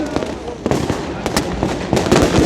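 New Year fireworks explode in rapid succession at a festival in Tbilisi, Georgia, with sharp cracks and booms landing close by amid a noisy crowd.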